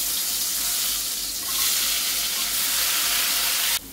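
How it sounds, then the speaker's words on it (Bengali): Potatoes coated in salt and turmeric fry in hot oil in a wok, giving a steady, loud hiss and sizzle that holds evenly throughout before cutting off abruptly at the very end. "আলুটা কিন্তু আমার মোটামুটি ভাজা হয়ে গেছে"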